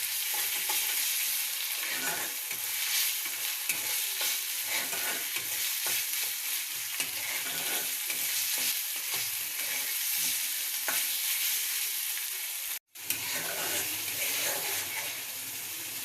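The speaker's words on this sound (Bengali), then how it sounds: "পরিমাণ মতো লবণ দিয়ে কিছুক্ষণ কষিয়ে নেব।" Ginger, garlic and cashew paste sautéing with salt in a pan for chicken biryani, a steady close sizzle with scraping stirs throughout and a brief break near the end.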